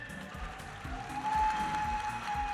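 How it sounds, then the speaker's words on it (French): Audience applause at a Japan Expo game show, clapping that rises and swells midway over low rhythmic background music and a sustained tone, with no voices over it. "Applaudissez-les très fort, mesdames et messieurs, s'il vous plaît."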